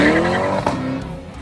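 Stock Chevrolet Corvette Stingray C8 engine, loud and close, roaring with a sharp, rising pitch in a single brief pass that fades quickly.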